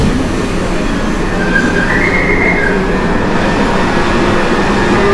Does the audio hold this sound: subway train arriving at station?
yes